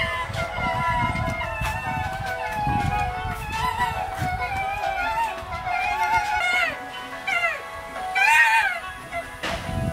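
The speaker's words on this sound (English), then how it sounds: "Doing whatever foxes do and making fox sounds." Foxes at a fox village in Japan, a cluster of high, yelping and squealing calls rising and falling over a murmur of distant crowd noise, moderately near and not very loud.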